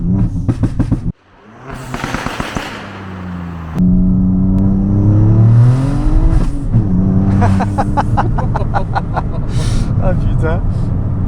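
A tuned Ford Fiesta ST with a stage 3 1.5L Ecoboost three-cylinder engine blips its throttle, then accelerates hard with a loud, rising rasp and sharp rev bursts, up close, while people talk over it.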